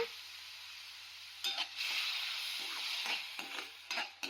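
Tomato puree hits a hot pan for a tomato red sauce pasta, a steady close sizzle running throughout with a few louder bursts of stirring and spattering in the second half.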